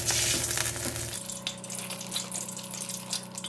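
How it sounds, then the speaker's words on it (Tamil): Cashews frying in ghee in a pan on a stovetop: a steady close sizzle and bubbling hiss, louder at first and then settling to a softer crackle, with no talking. "பாத்திரத்தில நெய் ஊத்திட்டு முந்திரி போட்டுக்கலாம். முந்திரிய வந்து நல்லா வறுத்து எடுத்துக்கணும்."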